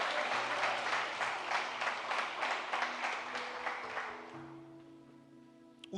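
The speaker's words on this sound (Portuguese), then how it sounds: "Você pode aplaudir você em nome de Jesus?" A church congregation applauds together, a dense wash of many hands that holds steady, then fades over the last couple of seconds, leaving a faint tonal hum.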